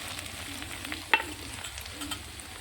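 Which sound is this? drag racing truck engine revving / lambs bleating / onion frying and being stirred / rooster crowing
onion frying and being stirred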